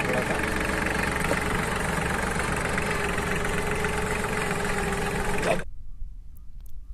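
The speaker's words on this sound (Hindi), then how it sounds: "ट्रैक्टर की आवाज़ देखो कितनी शानदार है" A Massey Ferguson 6026 MaxPro 26 HP 4x4 mini tractor engine idles with a steady, low rumbling chug, loud and close, then the sound cuts off abruptly near the end.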